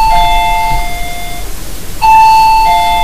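A debate timekeeper's bell rings twice, each a clear two-tone electronic chime like a doorbell, sounding once at the start and again after a short pause, loud and close with no talking.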